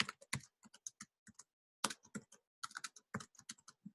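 Fingers type on a computer keyboard in short uneven bursts of crisp, close clicks separated by brief pauses, with no talk.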